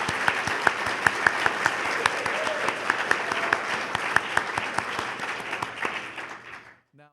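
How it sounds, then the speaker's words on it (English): An audience applauds speakers at the close of a crop circle conference program, steady dense clapping filling the room before it fades out at the end. "I want you to give a good round of applause to all of our speakers."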